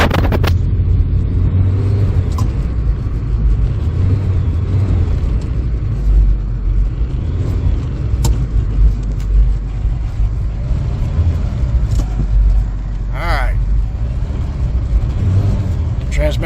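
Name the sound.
1992 SAAB Turbo engine running, attempting to shift gears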